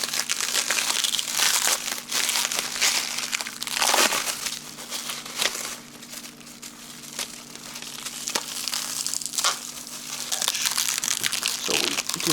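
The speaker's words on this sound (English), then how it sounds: "We'll continue to unwrap." Close, steady crinkling and crushing of plastic wrap and packing material as a Bixpy Jet kayak motor is unwrapped, with irregular louder tearing bursts throughout and no talking.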